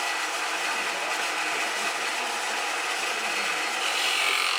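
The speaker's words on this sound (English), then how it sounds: "And sometimes I'll scrape it and then I'll part it off." Wooden Christmas ornament being scraped on a lathe, a steady bright hissing scrape of tool against spinning wood, continuous and close, no voices.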